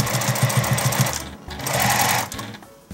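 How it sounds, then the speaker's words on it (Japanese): A sewing machine stitches fabric for dog clothes, backstitching at the starting point: a fast rhythmic mechanical chatter, a brief stop, then a second smoother run of stitching up close. "縫い始めの位置で返し縫いを始めます"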